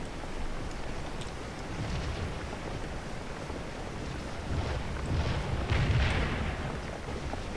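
Low, rumbling booms of cannon fire in the video game Scourge of War roll through steady background noise, with a couple of heavier blasts toward the end.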